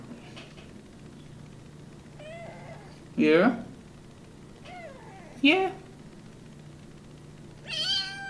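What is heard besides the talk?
cat meowing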